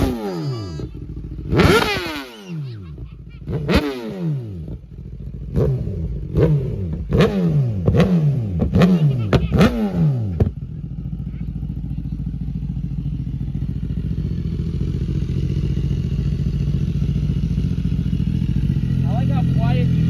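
A BMW S1000RR with a full titanium Arrow exhaust revs hard through a quick series of loud rising and falling engine sweeps, then settles into a steady idle hum.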